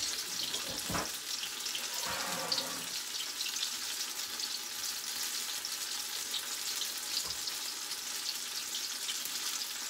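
Apple beignets deep frying in a fryer, a faint continuous bubbling hiss with a couple of brief clinks, quiet and steady with no talking.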